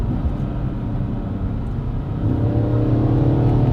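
A BMW M135 (F20) with an S63 twin-turbo V8 revs up with a deep, throaty rumble, growing louder and heavier about halfway through as it accelerates.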